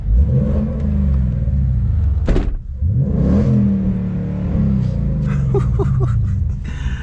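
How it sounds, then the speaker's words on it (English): A Shelby Mustang engine revs hard in loud, rising and falling surges, close by, with a sharp drop between pulls and brief voices near the end. "All right, let's rev it up."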